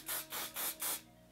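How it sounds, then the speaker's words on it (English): Hairspray is sprayed onto the middle section of styled hair with clip-in extensions in four quick hissing bursts in an even rhythm, close and fairly soft, then a brief quiet pause. "So now I am going in the middle, I guess, and I am just going to spray"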